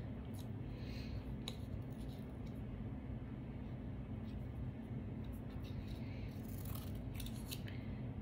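Scissors snip through a silicone-molded car air freshener shaped like a Jeep, giving a few faint, scattered cuts over a constant low background rumble.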